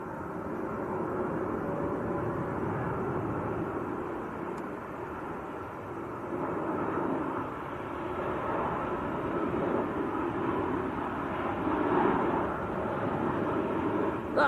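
An airliner landing at Manchester Airport while crabbing in a crosswind, heard as a steady broadband jet roar that swells slightly toward the end, distant and continuous with no talk.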